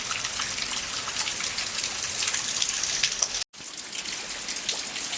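Steady rain from Hurricane Joaquin falls on a rural yard, a continuous soft hiss of drops with a brief dropout partway through.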